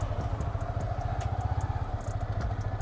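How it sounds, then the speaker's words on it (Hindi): A Kawasaki ZX-10R motorcycle engine idles close by, with a low rapid pulsing throb and light mechanical clatter, steady and alone. "चल भाई चलाना मोटरसाइकिल"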